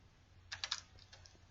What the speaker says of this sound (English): Just step on the keyboard.